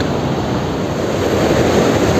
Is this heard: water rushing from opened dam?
yes